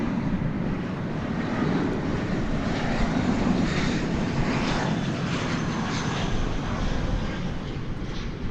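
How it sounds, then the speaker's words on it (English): An Airbus A320 on approach from Minneapolis–St. Paul gives a loud, steady jet engine roar that fills the whole stretch without fading, heard near an airport with no talk. "an Airbus A320 coming in from Minneapolis, St. Paul here"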